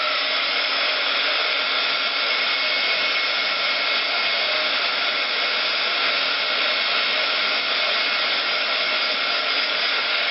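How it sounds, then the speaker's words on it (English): A heat gun blows steadily as it melts and dries UTEE embossing ink on a leaf, giving a loud, even, continuous roar that runs unbroken from start to finish with no talking. "You're going to take your heat gun, which I'm sorry, I forgot to tell you need in the tools."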